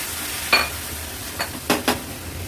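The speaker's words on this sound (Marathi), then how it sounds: "मटण मसाल्यामध्ये छान परतून घ्यायचे" Mutton being stirred and sautéed in a spicy Agri Koli-style masala paste, with a soft, steady sizzle under a few distinct scraping strokes of the spoon against the pan.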